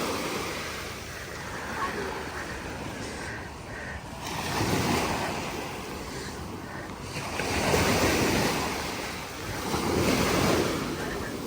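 Ocean waves wash onto the beach at Koh Samed Island, Thailand, rising and falling in broad surges of surf with steady wind noise on the microphone.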